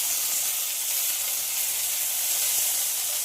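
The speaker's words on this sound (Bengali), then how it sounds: "সব কিছুকে খুব ভালোভাবে ভেজে নেব।" Potatoes, jackfruit seeds and greens frying in oil in a pan, a steady bright sizzling hiss that holds at an even level and is heard close up with no talking.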